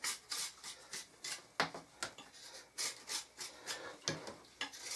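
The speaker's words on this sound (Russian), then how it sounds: "Сначала мы с этого тальника снимем шкуру," Rhythmic rasping strokes as bark is scraped from a warmed winter willow branch, about a dozen close, scratchy pulls in steady succession, with no talk.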